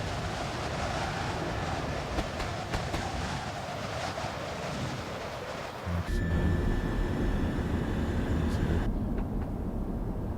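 Train Sim video game train heard from outside, a steady broad rumbling roar with wind-like hiss that shifts abruptly partway through to a louder, deeper drone with a thin high whine, no talking.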